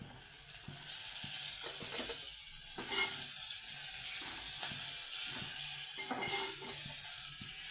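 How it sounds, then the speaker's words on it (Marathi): Steady close sizzle of tomatoes dropped into onion, garlic and coconut masala paste frying in oil, with scattered stirring clinks and spoon scrapes over a continuous hiss; no one speaks. "आता मी ह्याच्यामध्ये टोमॅटो टाकते"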